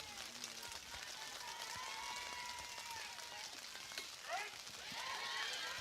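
Steady rain falls on an outdoor softball field during a high school district semifinal game, a dense hiss of drops throughout, with a commentator speaking over it.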